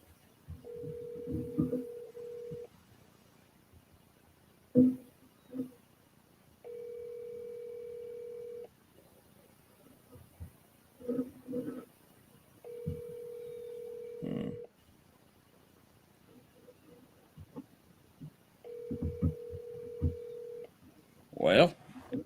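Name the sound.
telephone call ringing through to voicemail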